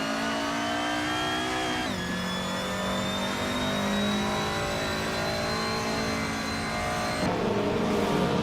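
A 1988 BMW M5 E34 engine revs hard in a racing video game, loud and close, its pitch climbing then dropping at gear shifts before rising again, with no talk.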